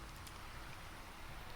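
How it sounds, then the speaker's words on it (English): Steady rain hisses in Minecraft, a dense even wash of falling drops at constant level throughout, with no other sounds on top. "It's been raining all day and it won't let me fix it."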